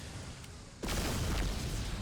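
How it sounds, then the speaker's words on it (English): Explosions in a Warhammer 40k mod battle between Necrons and Imperial Guardsmen, a sudden deep blast that bursts in after a dull rumble and leaves a dense, roaring wash of battlefield noise. "There's explosions going off all over the map."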